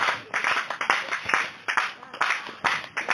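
A church congregation claps in praise of the Lord, loud steady rhythmic handclaps in a rapid repeating beat filling the room.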